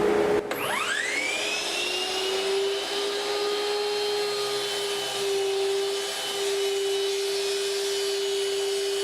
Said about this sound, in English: Dust collector on. Open the blast gate. Airflow felt. Let's make the cut.